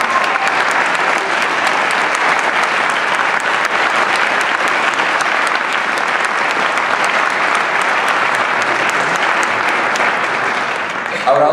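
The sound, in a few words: audience applause for band directors at honors band concert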